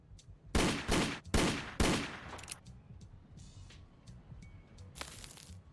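Explosions in the factory-building video game Captain of Industry: three sharp, loud blasts in quick succession, each trailing off into a rumbling crackle, then fainter scattered pops and a final burst near the end.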